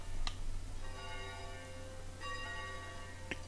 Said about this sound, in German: Die Kirche läutet.